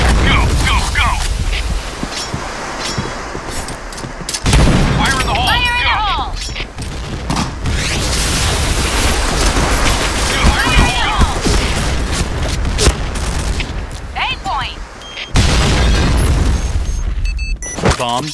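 Booming grenade blasts and gunfire in a Point Blank team match, with several loud broadband bursts standing out over continuous combat noise while players shout over the action.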